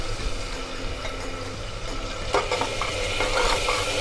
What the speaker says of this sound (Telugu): వేసిన తర్వాత కాసేపు ఉల్లిపాయ పేస్టుని నూనెలో ఫ్రై చేసుకోవాలి.